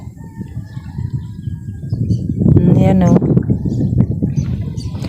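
Birds at Laguna Lake call amid chatter and low engine rumble, including a brief louder squawking cry near the middle, heard under people talking close by.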